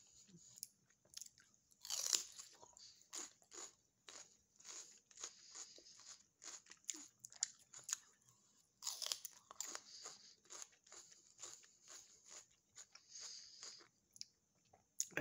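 Crunchy chewing of a tomato by a vegetarian eating at night, close and quiet, with repeated bites and rhythmic mouth crunches, a couple of sharper loud bites standing out, no talking.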